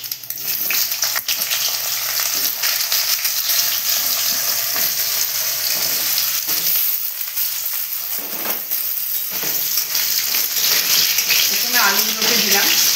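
Panch phoron and dried red chillies fry in hot oil for a Bengali dudh shukto, giving a loud, dense sizzle with crackles and occasional stirring clatter throughout.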